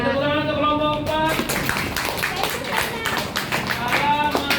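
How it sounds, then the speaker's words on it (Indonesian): A classroom of students claps for a student group, a dense burst of applause mixed with overlapping voices and cheering throughout. "tepuk tangan untuk kelompok 4."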